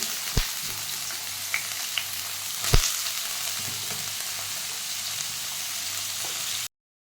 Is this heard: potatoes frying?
yes